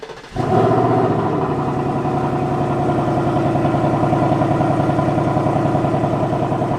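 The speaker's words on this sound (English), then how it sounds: "let's take a listen to how the stock exhaust sounds" A Ford Mustang with its stock exhaust idles steadily after a brief start, a low, even rumble from the exhaust that holds constant and fairly loud throughout.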